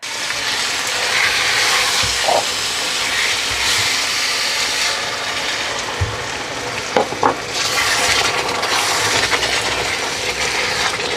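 Masala with ginger and garlic sizzles and fries loudly in a pan for a pea and potato curry, a dense continuous crackle close by, with a few stirring knocks against the pan.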